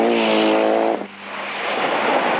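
Ari Vatanen's rally car at the 1991 Wales Rally GB, engine blaring loud and close with a strong steady pitched drone for about a second, then cutting off sharply as it brakes into a tight man-made chicane, leaving a broad roaring wash.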